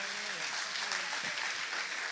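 Church congregation at a Sunday service applauds in a dense, continuous wash of clapping with faint voices mixed underneath.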